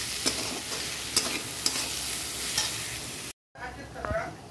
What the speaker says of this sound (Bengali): দিয়ে একটু নাড়াচাড়া দিয়ে ঢেকে ঢেকে ভাজবো